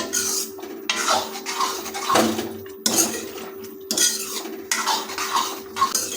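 A ladle stirs chicken skin ghugni in a wok, scraping and clinking in repeated close strokes that come in steady bursts, with no talking.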